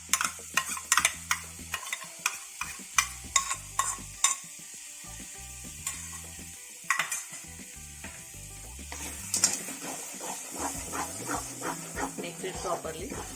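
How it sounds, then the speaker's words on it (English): Onion and coconut paste frying in hot oil for a village-style chicken curry, stirred with clattering, ratchety scrapes of a spoon against the pan over a constant sizzle, with talking mixed in. "Okay, it's time to add onion and coconut paste to it."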